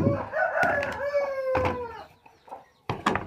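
A hen calls out in a loud, drawn-out crow-like cry followed by short clucks, close by on a home vegetable garden plot, with no one talking over it.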